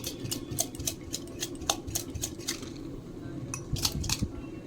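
A boiled egg rattles inside a glass as it is shaken to crack its shell, giving rapid, close, rhythmic clinking taps in bursts, then a brief pause and a few more knocks.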